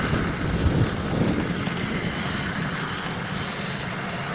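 A helicopter engine runs with its blades turning, giving a steady loud rumble and whine close by, with no voices over it.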